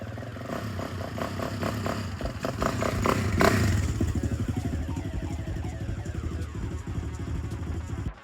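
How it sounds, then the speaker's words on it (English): A 2004 Suzuki LTZ 400 ATV fitted with a big bore kit idles and revs close by, its engine a steady rough putter that swells briefly with some clattering before settling back to a loud, even run. "this ATV has a big bore kit on it"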